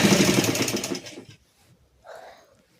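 A sewing machine runs a fast rhythmic stitch along a salwar seam for about a second, then stops, followed by a brief soft rustle of fabric.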